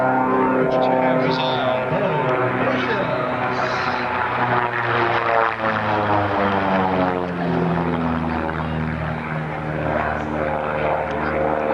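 A propeller aerobatic airplane drones loudly overhead at an air show, its engine note shifting in pitch as it rolls and maneuvers past, with a commentator talking underneath.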